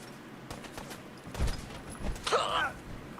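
Gunfire in a Fallout 4 firefight: a few scattered shots and impacts, mid-distance and moderately loud, mixed with creaks and a brief harsh burst near the end.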